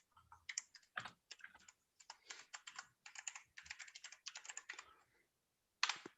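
A computer keyboard is typed on in quick bursts of crisp, close clicks with short pauses, ending in one final sharp keystroke.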